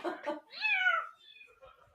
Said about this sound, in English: I think the cat's telling you it's time to go.